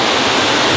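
Small mountain waterfalls in the Haute Maurienne roar loudly and continuously nearby, a dense, unbroken wash of rushing water that fills everything.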